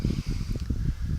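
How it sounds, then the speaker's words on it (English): Wind buffets the microphone outdoors on a hike in a continuous low, rumbling roar that rises and dips in uneven gusts. "excuse the wind. I mean, it might be a little windy."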